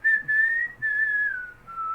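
Close, clear whistling of a brief phrase from a song, made of a few sustained notes that glide gently downward, with no other sounds around it.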